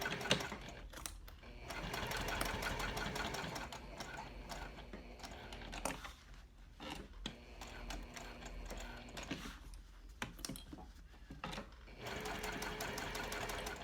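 Sewing machine stitching a seam on a cork trifold wallet with a 1/8 inch allowance, a steady fast mechanical whir running almost continuously with short pauses and restarts, close and fairly loud, no talking.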